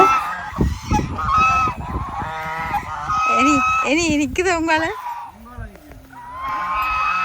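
Geese honk repeatedly at close range, with harsh, wavering calls overlapping one another in a noisy, uneven chorus.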